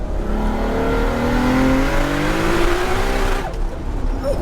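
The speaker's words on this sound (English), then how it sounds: "I heard the wheels spinning up there" A 1000 bhp Toyota Supra accelerates hard, its engine roaring loud and close with rising revs as the wheels spin, heard from inside the car with a faint voice underneath.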